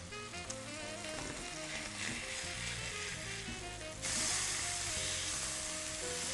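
Mushrooms frying in a pan, with a steady sizzle over a low background hum, growing noticeably louder and brighter partway through.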